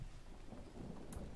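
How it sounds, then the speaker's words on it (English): Rain falls with thunder in the jungle survival video game Green Hell, a soft, continuous wash of rainfall with a low rumble underneath, faint and distant. "Oh, it's raining."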